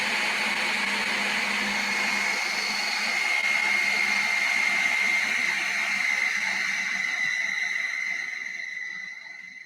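A kitchen mixer appliance runs on its dough setting, churning rum ball dough with a loud, steady whirring motor drone that continues evenly for several seconds before easing off at the end.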